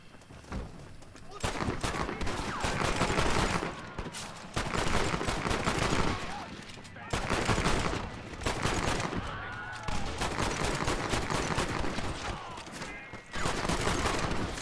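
Semi-automatic pistol gunfire in Red Dead Redemption, dense rapid shots and clattering bursts in continuous volleys with brief pauses, loud and busy throughout with voices mixed in.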